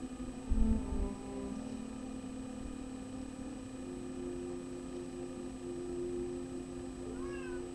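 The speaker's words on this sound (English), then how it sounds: "that meow you're hearing is Merlin" A cat named Merlin meows indoors, a drawn-out, slightly plaintive call heard close by over a steady low electrical hum, with a fainter meow near the end.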